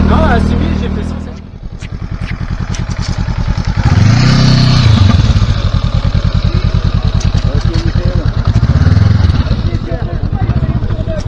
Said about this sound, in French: j'aime beaucoup cette moto là.